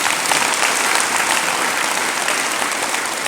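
Steady, dense applause from an audience clapping their hands at a spiritual discourse, filling the whole stretch evenly with no talk over it.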